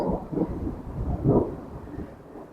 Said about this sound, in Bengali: মেঘের ডাকের শব্দগুলো শুনেন খুবই ভয়ঙ্কর একটা শব্দ